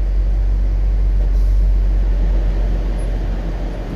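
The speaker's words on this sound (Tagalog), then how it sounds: "Oh, traffic magkabilaan." Road traffic crawls on both sides of a road near a bridge, heard from inside a vehicle as a loud, steady low rumble of engines and tires without breaks.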